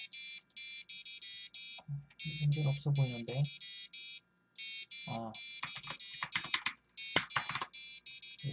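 An Arduino buzzer built as a ramen timer beeps in rapid repeated bursts, pausing and restarting, while someone talks over it.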